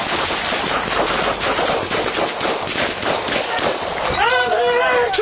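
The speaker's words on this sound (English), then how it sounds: "Shots fired! Shots fired!" Rapid gunfire during a police shootout, a dense run of loud shots overlapping with shouting voices, close and chaotic throughout, with voices rising toward the end.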